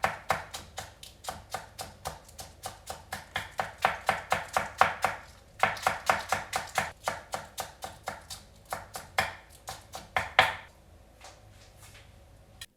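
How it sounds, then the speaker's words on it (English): A knife thinly slices the green part of an onion on a cutting board in quick, even, rhythmic chops, close and crisp, pausing briefly midway before carrying on. "I angle my knife at a diagonal like this and then slice it very thin again"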